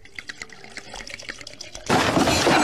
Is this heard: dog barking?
no